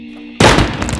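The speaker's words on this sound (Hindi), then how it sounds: "फिर अचानक गालियों और शोर शराबे के बीच एक जोरदार धमाका हुआ।" A loud bang sound effect in a Hindi audio drama of Treasure Island, a sudden heavy crash that cuts in after a faint low hum and rings out as a booming, rumbling burst.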